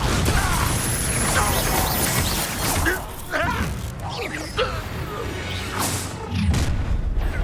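Confringo fire spell blasts in Hogwarts Legacy land as a series of loud booming bursts and crashes amid clattering combat effects, several impacts spread across the scene.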